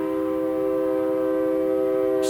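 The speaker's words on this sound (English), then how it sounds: "Stupid train." A passing train fills the air near a driveway with a loud, sustained, steady horn-like drone of layered tones, holding without break throughout, no voices heard.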